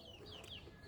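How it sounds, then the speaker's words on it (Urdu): Chicks and chickens in a backyard coop cluck and cheep softly at close range, with a few brief higher calls over a low steady background. "یہ چوزے ہیں، یہ کبوتر ہے"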